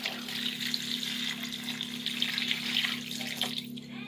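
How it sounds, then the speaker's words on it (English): Water pours steadily into a pan of seasoned beef stew in a home kitchen, a continuous close splashing gush with a low steady hum beneath, no talk. "Throw some water in."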